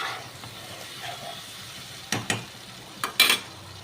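Spice paste fries in oil in a pan for a pabda fish curry, giving a steady low sizzle broken by a few sharp clinks of a utensil near the end.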